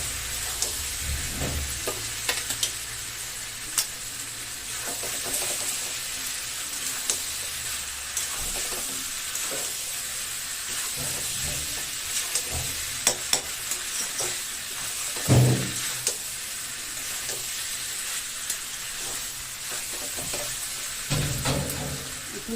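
Potatoes frying and being stirred into browned chicken curry meat, a steady close sizzle with scraping spoon strokes and occasional louder clatter, no talking.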